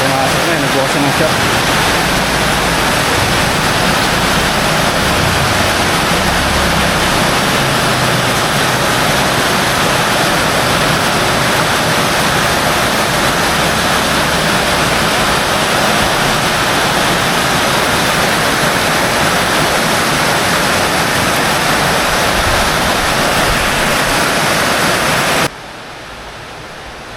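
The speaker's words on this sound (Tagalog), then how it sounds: "Biglang bumuhos ng malakas na ulan." Heavy rain pours down during a typhoon, a dense, loud, continuous roar of falling water that persists throughout before dropping off at the very end; people talk faintly beneath it.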